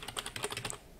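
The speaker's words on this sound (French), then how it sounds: "quand on tape vite au clavier, ça fait un petit bazar" Rapid typing on a TI-Keyboard plugged into a TI-84 Plus Orion calculator gives a quick burst of light plastic key clicks for most of a second, then it goes quiet.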